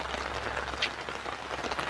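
Rain falls steadily outdoors around Verona at Tub Lan in Thailand, making a continuous soft patter of drops on surfaces at moderate, even loudness.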